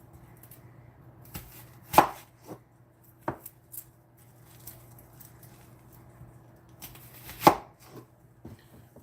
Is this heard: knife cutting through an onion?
yes